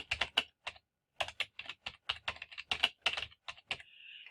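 Bursts of quick keystrokes on a computer keyboard, close and clear, in irregular clusters with short pauses, ending in a brief steady tone, no talking.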